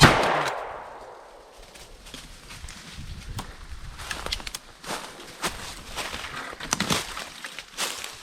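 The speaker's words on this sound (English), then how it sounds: "I took a quick shot." One sharp shotgun blast opens the scene on an afternoon grouse hunt in the woods and fades quickly. Footsteps and rustling in brush follow, close by.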